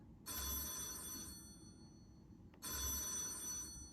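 A telephone bell rings twice during a stage play, each long metallic trill followed by a short gap, moderately quiet.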